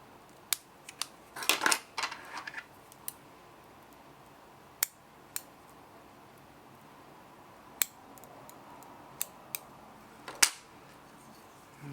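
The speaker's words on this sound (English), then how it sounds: "I've got some stems I'm going to trim out" Scissors snip feather stems during fly tying: a few quiet, sharp clicks spread apart, with a short cluster of rustling and snipping near the start, in an otherwise quiet room.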